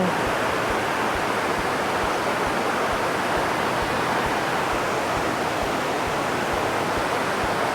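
Constant rushing water of a stream at Khlong Lan waterfall in Kamphaeng Phet, Thailand, flowing past both sides of an island, fills the scene, a dense, even roar of flowing current, close and loud, with no pauses or voices.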